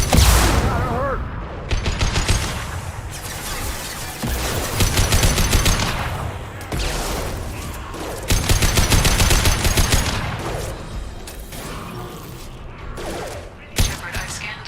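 Dense, loud gunfire from the Mass Effect 2 video game, with overlapping rapid bursts and heavy shots running almost continuously, a few brief lulls, and a sharp final blast near the end; a voice is heard occasionally within the firing.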